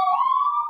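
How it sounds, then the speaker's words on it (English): Passing emergency vehicle sirens sound as a short, steady wailing tone with a few harmonics, moderately loud and heard alone with no talk. "there's sirens coming by"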